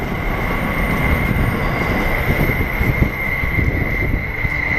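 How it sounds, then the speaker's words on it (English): A train rumbles steadily past in the background, its low rolling wheel noise and faint high squeal continuing without pause for the whole span, with no voices over it. "Sorry about the train noise in the background."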